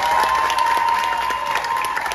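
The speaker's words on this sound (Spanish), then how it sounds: "un fuerte aplauso, por favor." Audience at a festival applauding a group of performers, a dense, steady burst of many hands clapping at moderate distance, unbroken for about two seconds with scattered cheers inside it.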